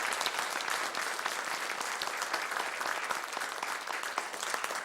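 A big round of applause for volunteers at a county Board of Supervisors meeting, dense and continuous clapping from the room at steady moderate loudness for several seconds.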